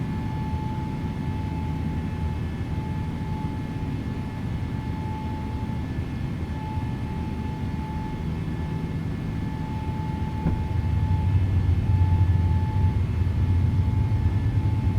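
A PMDG Boeing 777-200LR on its takeoff roll out of Auckland in Flight Simulator 2024, steady jet engine roar with a thin whine above it, swelling deeper and louder near the end.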